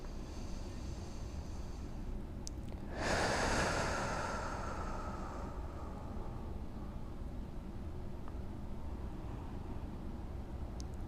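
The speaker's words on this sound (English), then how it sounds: "Big exhale." A big exhale during a neck strengthening exercise, one breathy burst of air lasting about two seconds in the middle, faint and close against a quiet room hiss.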